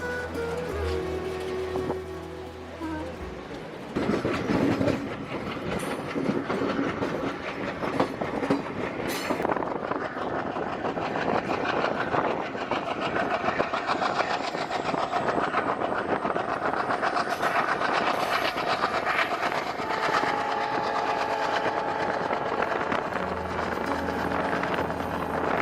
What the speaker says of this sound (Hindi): और ये है सोमनाथ जबलपुर एक्सप्रेस